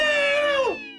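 A person's voice imitates a cat, giving a single drawn-out meow that bends downward in pitch at the end and fades out, with no other sound around it.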